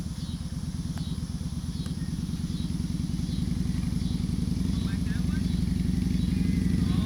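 A motorcycle engine runs steadily and close by, a continuous low, rapid pulsing that grows slightly louder over the whole stretch, with no voices over it.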